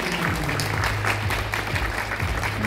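A seated audience at a Seoul digital city event claps warmly to welcome a guest, several seconds of continuous, even applause with a low hum of room sound underneath.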